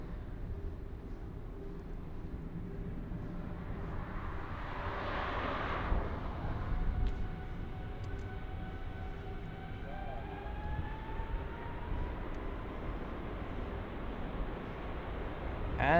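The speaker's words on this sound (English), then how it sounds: "next up we have the United 777 takeoff" A United Boeing 777-200ER takes off from Paris CDG bound for San Francisco, its jet engines a distant broad roar that swells and then fades into a lingering rumble, heard from outdoors without talk.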